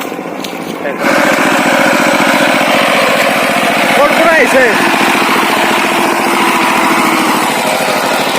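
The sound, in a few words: tractor engine ploughing field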